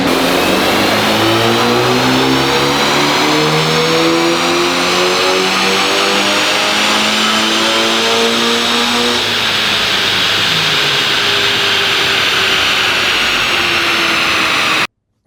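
A Honda Civic Type R with a PRL intercooler and custom catless downpipe on a dyno baseline run, its engine climbing steadily through a long, loud full-throttle pull, then dropping back as revs fall, with no voices.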